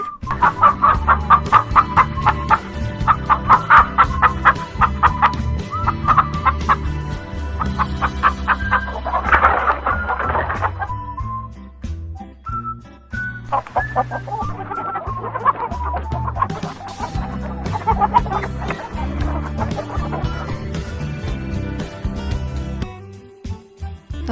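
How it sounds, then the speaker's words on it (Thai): Chickens clucking repeatedly in busy, overlapping bursts, with a rooster-like call midway; loud and close, with only a brief word spoken. "เราลองไปฟังเสียงของไก่กัน"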